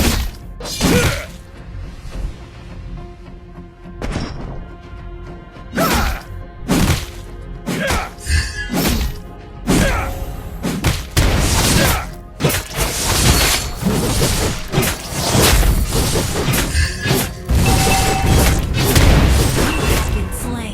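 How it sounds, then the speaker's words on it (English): In Mobile Legends: Bang Bang, the destruction of a turret brings loud booming and shattering impacts, a dense run of thuds and crashes mixed with game announcer speech and battle effects. "Our turret has been destroyed."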